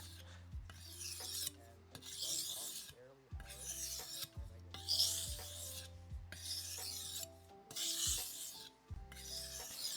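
A knife blade is sharpened with steady, rhythmic rasping strokes, about seven evenly spaced passes heard up close with no talking.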